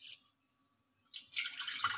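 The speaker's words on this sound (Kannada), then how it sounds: "ನೀರು ಹಾಕೊತೀನಿ" Water is poured into a cooking pot on a gas stove while Andhra-style palak pappu is being made. After a near-silent second it comes in as a close, splashing gush.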